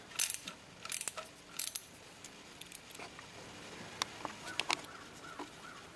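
Torx T30 bolt being removed from a bracket near the secondary air pump of a Mercedes, with faint metallic ratchet clicks, tool clinks and small rattles scattered through a quiet garage.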